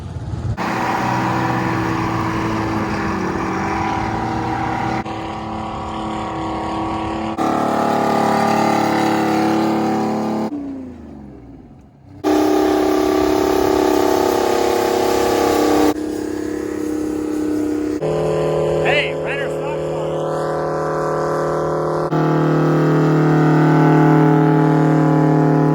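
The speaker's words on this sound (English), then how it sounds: "I hear a very large Detroit diesel." A very large Detroit diesel engine runs loud and close at an antique farm equipment show, a steady heavy drone with bursts of revving, a brief dip near the middle, and no talk over it.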